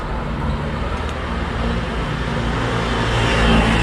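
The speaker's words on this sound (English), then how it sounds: "a lot of traffic, people going to and from work" Road traffic passing through a Portuguese village makes a constant low rumble of cars and heavier vehicles, steady and fairly loud, swelling slightly toward the end with no voices.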